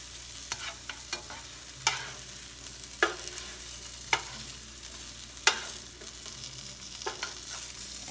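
Yams are stirred through caramelized sugar in a sizzling pan, with a soft frying hiss under roughly a dozen distinct scraping stirs spaced about a second apart.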